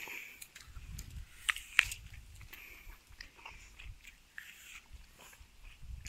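Someone bites into and chews an apple picked from a tree on a nature trail in Remte, Latvia, with two crisp, close bites early on, then quieter chewing over a soft outdoor background.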